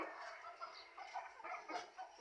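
Pet chickens kept on a small family homestead flock of about a dozen birds cluck softly and continuously, somewhat distant and faint, with no voices over them.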